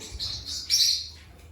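Several birds chirp and tweet in short bright bursts, close by, with a louder flurry partway through over a faint low rumble.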